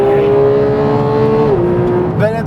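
A Porsche 911 GT3 track car revs hard toward 9000 rpm, a loud, sustained high-pitched engine howl that holds steady, dips slightly as it eases off, then snarls up again at the end.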